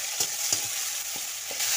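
Tomatoes sizzle in the leftover oil from fried fish for a Bengali bhola fish curry, with a steady bright fry hiss and a few soft spoon stirs and taps against the pan.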